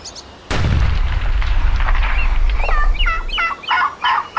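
A single loud, close shotgun blast fired at a wild turkey during a hunt, ringing out sharply and decaying, followed by a turkey's gobbling calls and fowl noises.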